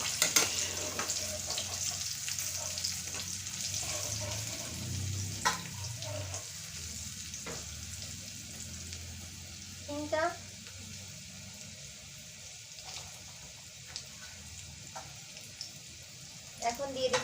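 A bay leaf frying in oil for a green pea pickle, heard as a soft, continuous sizzle with occasional clinks and scrapes of a spoon against the pan and faint background murmurs.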